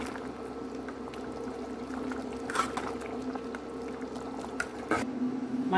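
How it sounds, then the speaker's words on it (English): Nigerian pepper soup with assorted meat and scent leaf simmering at a steady boil in a covered pot, a soft continuous bubbling with occasional small pops and a clatter near the end. "Our pepper soup has come to the final boil."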